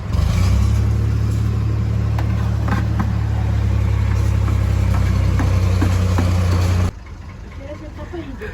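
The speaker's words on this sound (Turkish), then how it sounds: "Şu an arkadan gelen motor sesi için kusura bakmayın" An engine runs loud and steady close by at a rural village home, a continuous low hum that drops off abruptly near the end, leaving quieter background.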